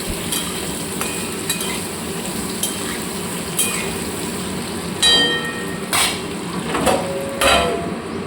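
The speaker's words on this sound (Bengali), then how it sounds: "এবার আলুগুলোকে ভালো করে নাড়াচাড়া করব এবং গ্যাস কমিয়ে এটাকে ভালো করে ভাজবো" Cut potatoes fry in a pan over low gas, giving a steady sizzle under repeated metallic clinks and scrapes from stirring, louder toward the end.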